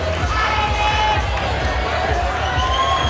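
Crowd at the Gravity Bowl 8 climbing event in Cape Town cheers for climber Nick Allen, a dense wall of voices and shouts that stays loud and steady throughout.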